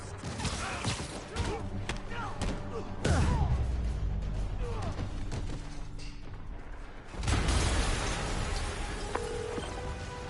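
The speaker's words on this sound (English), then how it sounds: "Yuri, an explosion just..." Heavy explosion bursts in a PS5 video game, two loud broadband booms about four seconds apart, each followed by rumbling debris and crackle over game ambience and sound effects.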